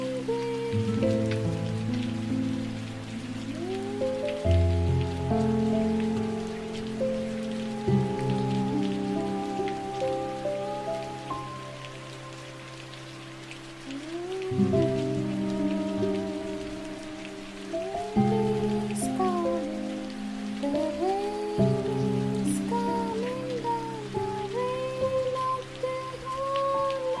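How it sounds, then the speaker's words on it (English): Steady rain patters continuously on a surface, blended with sustained, slowly shifting tonal music pads in a worship setting, with no voices heard. "The rain is coming, the rain is coming down"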